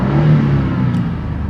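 A Ford F150 XLT engine revving under acceleration as it pulls without stuttering, with a loud, close, steady mid-pitched drone over one and a half seconds.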